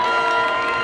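An outdoor Disneyland crowd cheers and claps during a band show, voting for a drummer. It is a short, loud, steady burst of mixed cheering and shouting.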